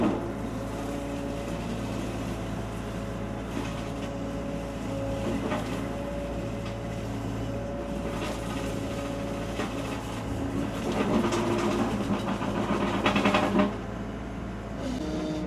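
A brush mulcher mounted on a machine chops up brush and cuts low-hanging branches near a pond, giving a loud, steady mechanical drone with grinding surges that swell toward the end, heard alone without talk.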